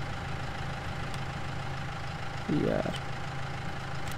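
A Ford 3600 tractor idles in Farming Simulator 19, a steady low engine drone running throughout, with someone talking briefly over it.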